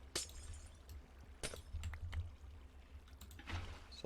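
Water poured into a Minecraft world flows out in a faint, steady trickle, with a few sharp clicks of blocks being placed over a low background hum.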